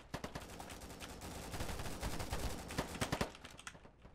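Rapid bursts of AK12 hipfire in a shooter video game, dense automatic gunshots rattling in quick succession with brief pauses between strings, loud and close throughout.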